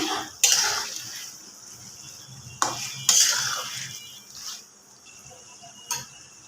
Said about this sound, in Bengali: মাংসগুলো একটু ভালো করে নেড়ে দিব